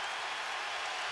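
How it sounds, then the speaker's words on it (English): Basketball crowd applauding a physical defensive play at an NBA Finals game in Boston, a steady wash of distant clapping and crowd noise over its brief span. "Crowd applauding the physical play of Wallace"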